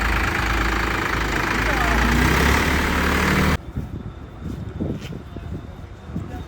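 A new Indofarm 3060 tractor engine idles loudly and steadily at a delivery, its diesel rumble close by for several seconds before cutting off abruptly, followed by people talking.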